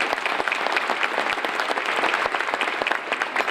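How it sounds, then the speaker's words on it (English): Dinner audience applauding a foundation at a hall of fame event, a full, continuous wash of clapping from a large room with sharper individual claps standing out. "So let's give them a round of applause on that."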